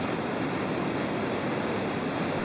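Niagara Falls roars at close range near the Hurricane Deck between the American Falls and Bridal Veil Falls, a dense, steady wash of falling water with wind buffeting, continuous and loud throughout.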